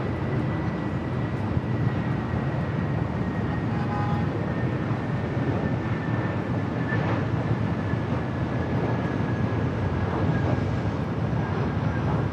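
KLM airliner rolling for takeoff on runway 24 left at LAX, a steady distant engine roar heard from afar, continuous and without speech.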